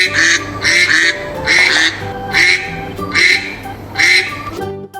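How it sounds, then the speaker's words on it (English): A duck on a farm quacks in a series of about six loud, nasal calls spaced roughly evenly, close and clear with nothing else behind them. "Duck."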